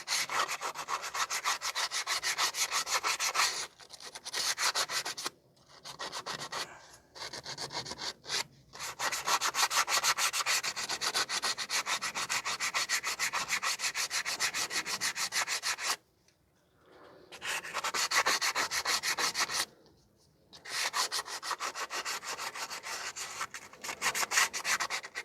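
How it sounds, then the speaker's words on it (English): Rear brake shoes from a 2010 Subaru Outback 3.6 being sanded by hand, a close, steady raspy rubbing in long continuous strokes broken by a few short pauses. "I'm going to sand down the shoes now because I damaged the shoes a tiny bit."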